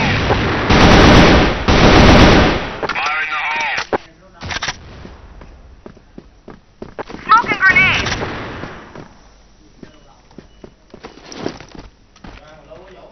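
Video game firefight with AK-47 fire and a grenade blast: loud, dense bursts of gunfire and a detonation up front, then scattered sharp shots and crackles, with excited voices talking over the action.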